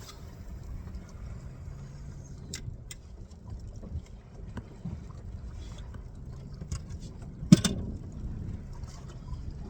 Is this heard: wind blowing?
yes